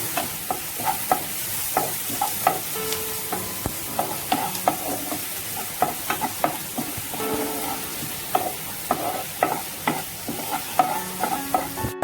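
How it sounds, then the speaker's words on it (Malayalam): Onions for a Mumbai veg samosa filling sizzle in a pan as a spoon stirs them, making frequent sharp scraping knocks over a steady frying hiss, close and clear, with no voices. "ഇതൊന്ന് ജസ്റ്റ് വാടട്ടെ. നന്നായി ഇളക്കി കൊടുക്കണം."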